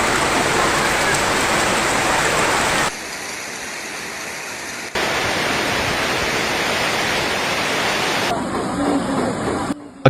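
Torrential rain pours down during severe flooding in Bintulu, Sarawak, Malaysia, a dense, steady roar of water that drops to a quieter wash midway and then returns at full strength.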